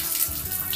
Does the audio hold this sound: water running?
yes